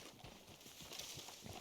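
Horse hooves clip-clopping in the Red Dead video game, a steady rhythm of soft thuds under a continuous hiss of ambient game noise, fairly faint and close.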